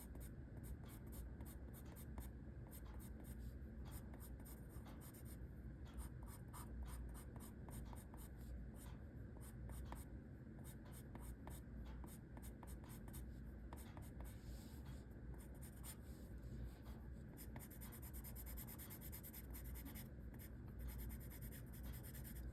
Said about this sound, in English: Just using slightly heavier pressure with my colored pencil and rotating it